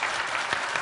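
Brief burst of audience applause at a university politics institute gathering, a dense wash of many hands clapping at once.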